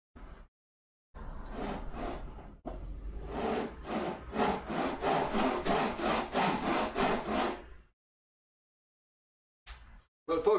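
A hand saw cutting wood in a workshop, heard as a steady run of about a dozen close, rhythmic rasping strokes that speed up slightly before stopping, followed by a couple of brief scrapes.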